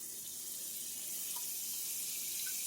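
Butter and bacon grease sizzle in a skillet as chicken is about to be fried, giving a steady, close, bright hiss that runs unbroken throughout.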